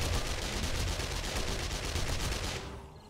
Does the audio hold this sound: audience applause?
no